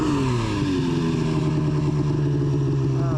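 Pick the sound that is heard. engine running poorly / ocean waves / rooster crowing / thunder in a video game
engine running poorly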